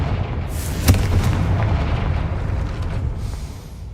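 Confringo blasting spell from Hogwarts Legacy going off as a sharp, booming explosion with a rumbling low tail that lingers under continuing game ambience.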